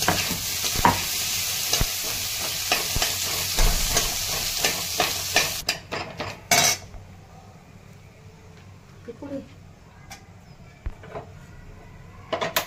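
Onion, capsicum and mild chili sautéing in oil for paneer chili, with a steady sizzle and stirring scrapes that are loud at first, then thin to quieter crackling with occasional clinks of the pan.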